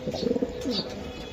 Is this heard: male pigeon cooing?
yes